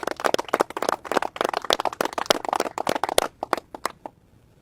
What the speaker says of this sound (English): So can we give them a round of applause too,